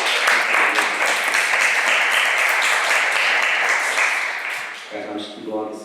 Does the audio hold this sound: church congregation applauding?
yes